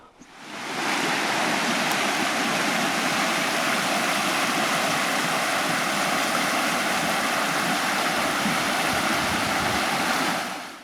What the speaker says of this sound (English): that's a pretty cool little place there on the creek